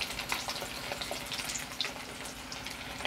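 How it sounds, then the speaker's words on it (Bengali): Cut potatoes fry in hot mustard oil in a wok, giving a continuous close crackling sizzle with fine popping spatters and no talk. "এবার কেটে রাখা আলুগুলো একটু ভেজে নেব।"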